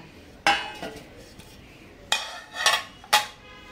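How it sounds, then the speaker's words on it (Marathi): A metal lid set onto a cooking pot in a home kitchen, giving a few sharp clanks and clinks spaced over several seconds, close and fairly loud with quiet pauses between. "तर आता आपण याच्यावर झाकण ठेवून घेऊया"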